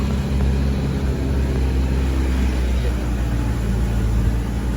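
An Isuzu Panther climbing toward a hill gives a steady, close, low engine rumble as it accelerates, heard from inside the vehicle.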